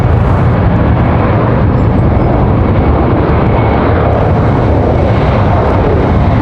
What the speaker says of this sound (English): Looks like we got another Delta 737 getting ready for departure here.